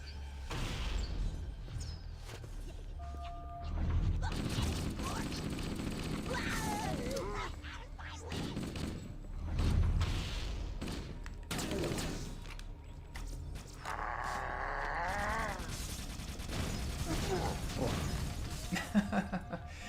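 Needler rounds explode in the video game Halo: Combat Evolved as a series of crackling, shattering bursts and pops mixed with mechanical weapon clatter, repeating over about twenty seconds while a person talks over the gameplay.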